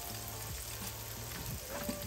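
Pork ribs fry in a pan, giving a faint, steady sizzle with soft crackles and no voices.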